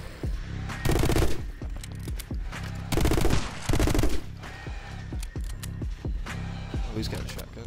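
Rapid pistol gunfire from a video game crackles in dense bursts near the start and again midway, with scattered single shots between, all over game music and a talking voice.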